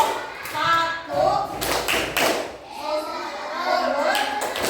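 Children in an Indonesian primary school classroom do a rhythmic clapping chant, claps in short bursts mixed with their loud chanted voices and a teacher's voice leading.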